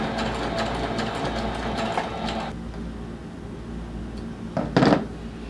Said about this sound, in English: I'm going to go ahead and sew the other side